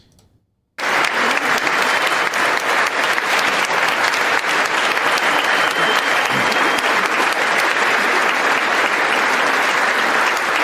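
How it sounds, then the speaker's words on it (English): An audience rises to its feet in loud, sustained applause after a sudden start, dense clapping filling the whole stretch with no gaps and a faint crowd murmur beneath. "they stand up clapping like, oh my God, yes"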